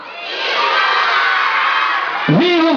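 A crowd of children at an outdoor Christmas event with Santa Claus in Içara, Brazil, shouting a loud, sustained cheer together, ending with a sharp rising whoop.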